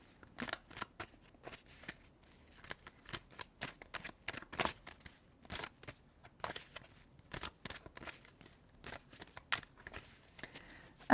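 Oracle cards are shuffled for a reading, close and quiet, in a string of quick papery riffles and flicks arriving in irregular bursts with brief pauses between.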